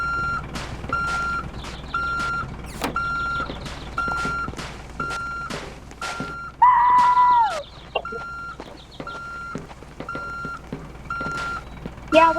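Reversing beeps from a truck in a video game sound as evenly spaced, steady electronic tones about once a second, over a low engine rumble with sharp clanks and a brief wavering horn-like tone midway.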